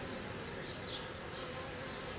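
A swarm of honey bees buzzes in a dense, unbroken hum at a hive box, steady and close throughout.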